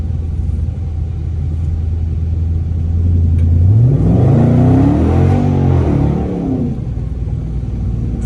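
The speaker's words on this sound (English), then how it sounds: "This car will speed up, son." A Dodge Charger R/T on wet roads in the rain with traction control off, its engine idling in a steady low rumble before revving hard and accelerating in a loud climbing roar, then settling back down, with no talking.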